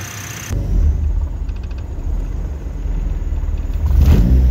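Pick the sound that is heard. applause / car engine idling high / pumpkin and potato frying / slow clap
car engine idling high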